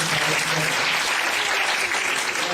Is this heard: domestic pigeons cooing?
no